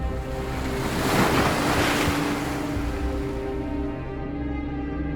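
Broad, steady wash of sea waves surging and rolling onshore, loud and close with wind gusting over the microphone and no voices.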